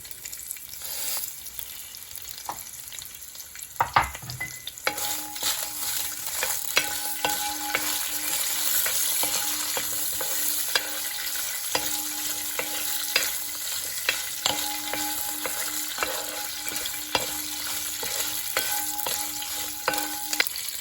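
Curry leaves and dried red chillies fry in hot oil for a Kerala tomato rice, a steady close sizzle with a spoon stirring now and then, running without pause and nobody speaking.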